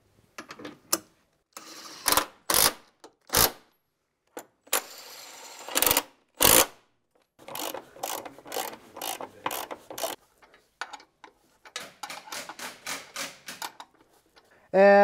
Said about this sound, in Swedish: nu ska vi bara dra åt lite lätt med maskin